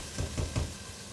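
Meat for feijoada fries in a pan, a soft steady sizzle with a few brief stirring pulses near the start, close and quiet, no one speaking.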